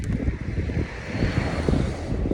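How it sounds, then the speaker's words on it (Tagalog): Strong wind roars and buffets steadily, with gusty low rumbling across the whole stretch and no voices. "napakalakas po talaga yung hangin."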